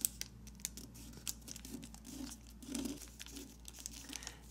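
Origami paper being folded and creased along an edge, giving soft crinkling and crackling rustles in short bursts, close and fairly quiet over a faint steady hum.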